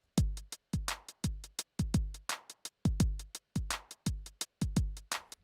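A drum machine beat with MPC 16 swing groove applied, kick and snare hits interleaved with hi-hats in a lilting, uneven shuffle feel, crisp and close with no talking.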